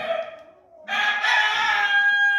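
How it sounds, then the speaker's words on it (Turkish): An Anatolian village rooster crows loudly and close, a long sustained call after softer clucking from Anatolian village hens at the start. "Anadolu köylü tavuklarımız"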